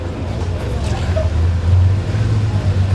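A vintage motor car rolls past at a concours d'eleganza parade at Villa d'Este, its steady low engine rumble continuous and fairly close, with a faint voice in the background.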